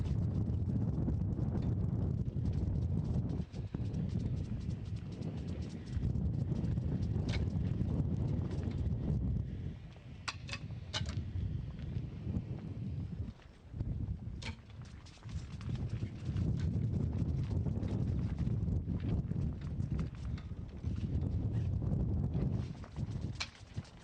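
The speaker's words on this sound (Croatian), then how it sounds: "Vjetar pojačava opet." Steady wind buffets the microphone at an outdoor field crossbow range during a men's world championship final, a loud continuous rumble that swells and dips in gusts with brief lulls.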